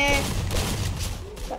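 Gunfire in a Free Fire clash squad match, a rapid burst of loud shots with booming low end, crowded together over the short span with a player's voice faintly under it.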